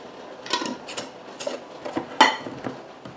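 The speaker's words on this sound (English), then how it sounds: "Going to put my flats and rings on there. Just put them on there finger tight." Metal canning flats and screw rings are set and twisted finger tight onto quart glass jars of green beans with onions, giving a series of light, close metallic clinks and scrapes in irregular rhythm.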